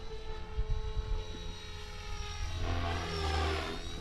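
A Blade 330X RC helicopter flying outdoors, a steady rotor and motor whine with sustained tonal hum and fluctuating low buzz, moderately loud and continuous without speech.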